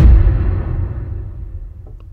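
A raw, unprocessed whoosh layer for a cinematic hit starts loud and full, then sweeps down and fades over about two seconds into a dull low rumble.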